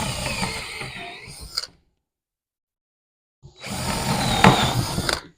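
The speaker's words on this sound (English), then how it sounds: "I'm going to run two pilot holes about just shy of 1 inch on the inside." Two bursts of power drilling bore pilot holes just under an inch in from the end of a length of timber, each a loud whirring grind, separated by a few seconds of silence.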